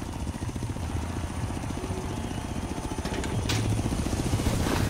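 Helicopter in the racing video game Forza Horizon 3, a steady, rapid rotor chop with a droning engine that swells slightly louder toward the end, heard alone.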